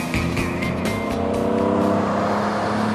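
An MG Sebring sports car fitted with a Weber carburetor drives on country roads, its engine loud and close with a throaty moaning intake roar as the throttle opens, revs rising and holding steadily.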